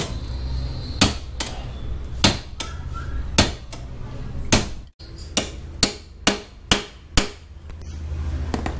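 Loud, sharp metallic hammer blows on a motorcycle swing arm extension strike in an uneven series, about a dozen impacts with short pauses between, close up and without talk.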